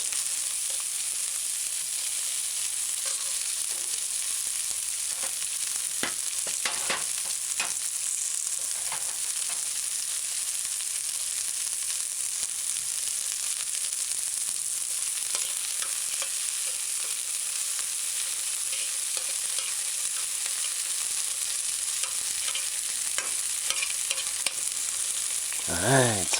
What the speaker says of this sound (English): I want to saute the onions first.